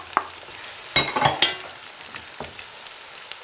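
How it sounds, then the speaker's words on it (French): Onions and then garlic dropped into preheated oil in a pot, giving a soft continuous sizzle with a few louder bursts and stirring clatters near the start, fading to a low crackle. "j'ai préchauffé l'huile et je vais rajouter tour à tour les oignons. Après quoi, je rajoute l'ail."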